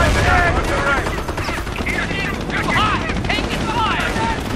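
Gunfire crackles through a Company of Heroes tank battle, with dense, overlapping bursts of rifle and machine-gun fire running the whole time under clipped voices shouting in the game.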